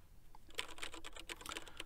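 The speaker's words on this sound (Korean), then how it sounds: "소음은 적축을 탑재한 기계식 키보드를 활용했고 거리는 약 50cm를 유지했습니다." Rapid keystrokes from a mechanical keyboard with red switches, heard from about half a metre away, form a quick, continuous patter of soft clicks that starts after a brief quiet moment.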